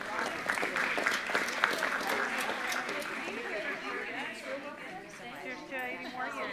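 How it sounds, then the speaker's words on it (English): Applause from the audience at a city council meeting, a burst of clapping that slowly thins out, with voices chattering through it. "Another round of applause."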